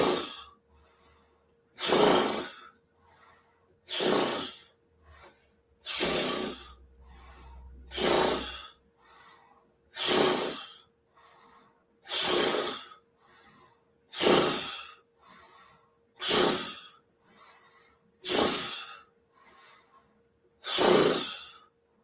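Slow, deep breaths during a medicine ball posture exercise, each a loud airy inhale or exhale close to the mic, repeating about every two seconds with quiet pauses between and no talk.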